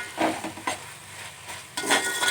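Chilli chicken fries in a pan while being stirred, with bursts of sizzle and scraping strokes that rise and fall in uneven pulses, close and without talk.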